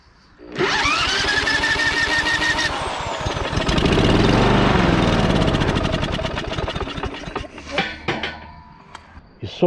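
A small engine on a roadside-salvaged lawn mower is sprayed with carburetor cleaner and sputters into life, revving loudly for several seconds before stumbling and dying out in a few uneven bursts, close by.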